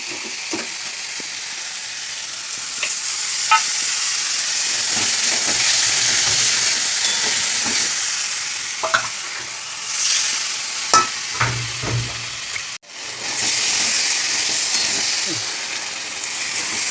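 Spices fried and stirred in a pan give a steady close sizzle with intermittent scraping and clinks, a short break near the middle, then the hiss picks up again.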